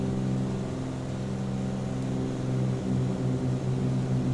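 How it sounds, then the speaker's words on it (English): Twin piston engines of a Cessna 414AW Chancellor in Microsoft Flight Simulator 2020, running out of sync, give a steady loud propeller drone with a slow beating throb that swells in the last second or so. "I love the out of sync sound for the engines, really nicely done"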